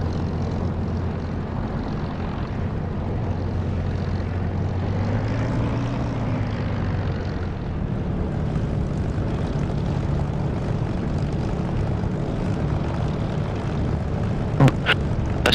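An aircraft engine drones steadily during takeoff in the DCS flight simulator game, with a constant low propeller-like hum that rises briefly in pitch midway, then settles, plus a couple of faint clicks near the end.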